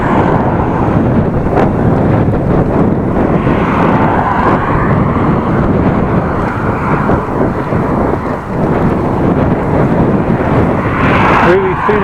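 Strong headwind buffets a cyclist's microphone on a Dutch bike trip from Appingedam to Groningen, a loud continuous roar of wind noise that persists throughout with little variation, with a voice partly buried beneath it.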